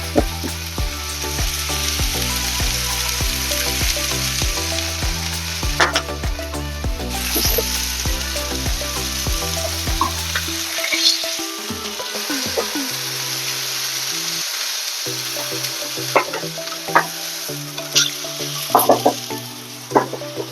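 Chicken sizzles loudly and steadily in a hot frying pan, with scraping and clattering as pieces are turned, and rhythmic music plays in the background through the first half.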